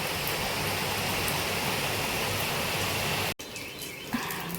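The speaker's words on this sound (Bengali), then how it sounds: "প্রচন্ড বৃষ্টি পড়ছে" Heavy rain pours down in a dense, steady hiss, then cuts off abruptly near the end, leaving quieter dripping ambience.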